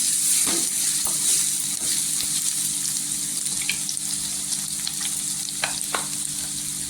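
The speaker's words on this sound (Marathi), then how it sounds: "लसणीची पेस्ट घेतलेली आहे। इथे छान अशी तेलावर परतून घ्यायची।" Garlic paste sautéing in hot oil sizzles steadily and loudly throughout, with scattered faint crackles and light stirring scrapes on top.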